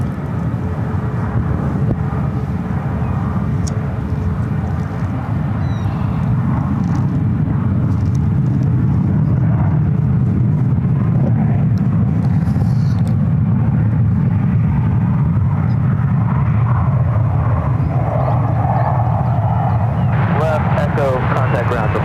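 United Airlines flight 1691, an airliner bound for Denver, takes off from runway 1 right at San Francisco airport: a loud, sustained low engine roar that holds steady and swells slightly toward the end.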